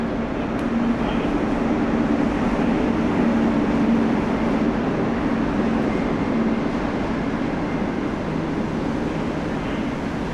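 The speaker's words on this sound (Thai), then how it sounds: "6:10 นาทีรถไฟมา" A steady, loud rumble of a train arriving at Vang Vieng, Laos, bound for Vientiane, continuous and unbroken, with a faint low hum running through it.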